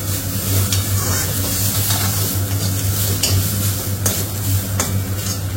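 Tomatoes frying in an oiled pan are stirred with a utensil, giving a steady loud sizzle with soft scraping strokes and faint metallic taps throughout, close by and with no speech.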